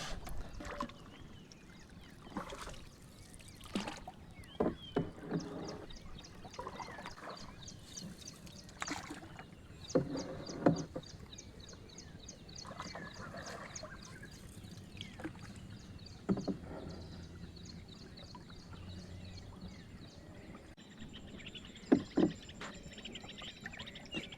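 A small wooden rowboat out crab trapping on shallow water drifts with quiet splashes and knocks, faint creaks, and a soft trickling ambience across a long, low-level stretch.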